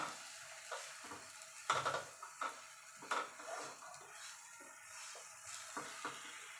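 Sugar being stirred in a pan while making sabudana laddu: quiet, intermittent scrapes and soft clinks of a spoon against metal over a faint, low sizzle, fairly close.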